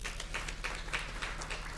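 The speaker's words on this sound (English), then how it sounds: "A round of applause once again" Faint applause from an audience at a youth learner's licence launch event, a light patter of clapping heard at a distance with steady background hum.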